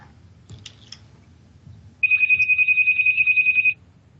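A phone rings with a loud, rapid electronic trill lasting under two seconds, following a stretch of quiet room noise and faint clicks.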